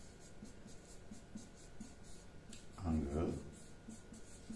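A pen scratches on paper while a geometry question is worked through: soft, faint scribbling strokes, with a brief louder rub near the middle, under a man's ongoing explanation.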